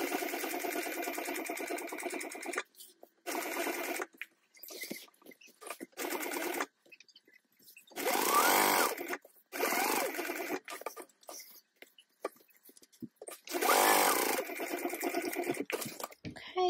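A sewing machine stitches a fabric tote bag, sewing a pocket down about 1/8 inch from the edge, in repeated loud bursts of rapid mechanical whirring separated by short pauses.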